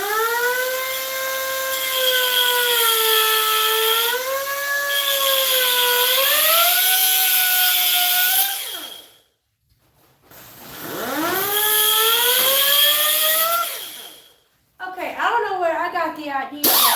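A gas pressure washer engine runs with a loud, high whine that rises and falls in pitch, cuts out briefly, then revs back up before wavering again.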